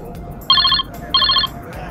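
A telephone rings loudly and close, two short trilling bursts separated by a brief pause over a low background hum.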